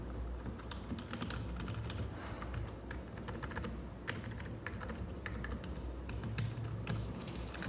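Rapid, steady typing on a budget Dell wired keyboard, with close, crisp key clicks and taps that continue without a break throughout, and no talking.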